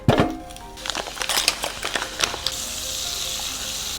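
Irish salted butter melting in a hot pot gives a bright, steady sizzle with crackles and a few stirring knocks and clinks near the start, growing into a continuous hiss.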